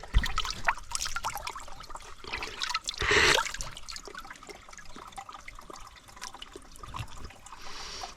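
Fresh water trickles and splashes steadily at a coastal camp, a close, wet burble with a brief louder gush partway through.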